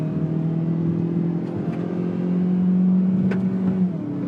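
A 2016 Hyundai Veloster Turbo with a seven-speed dual clutch transmission drives along, its engine holding a steady mid-pitched drone with a smooth rise in tone and no voices.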